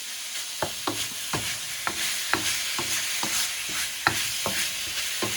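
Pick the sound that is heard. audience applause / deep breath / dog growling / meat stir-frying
meat stir-frying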